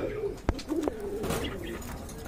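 A pair of running pigeons for sale coos nearby, soft throaty calls rising and falling over about two seconds, with a sharp click near the start and no talking.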